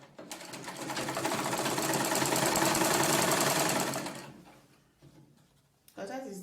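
A sewing machine stitches a Victorian corset in a steady, loud motorized whir for about four seconds, then slows and stops, followed by a short burst of speech.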